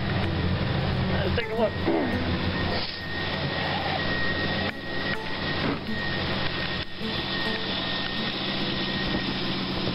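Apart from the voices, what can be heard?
Jeep engine idling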